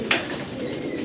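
Pigeons at a large pigeon farm holding about 1,200 birds give a short coo over a steady background murmur of many birds, moderately close and with no talking.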